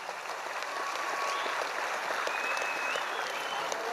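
Sustained applause from a large audience in a hall at a trade union convention, dense even clapping that holds steady throughout, moderately loud and without voices on top.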